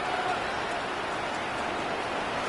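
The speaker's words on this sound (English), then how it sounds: "The rain set to continue as we are underway in the second half." Steady rain pours down during a football game in the second half, a dense, even hiss of drops with no pauses and no voices.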